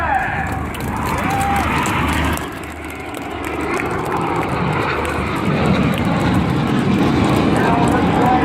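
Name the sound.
Red Arrows aerobatic jet synchro pair flying past at airshow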